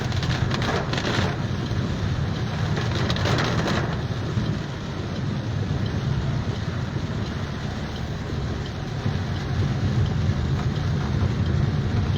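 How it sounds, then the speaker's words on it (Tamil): Steady, continuous rain pours down outdoors, a dense unbroken hiss with a low rumbling undertone, loud and close throughout with no voices. "இப்படி தொடர் மழை நாளுக்கு பிறகு பார்க்குறேன்"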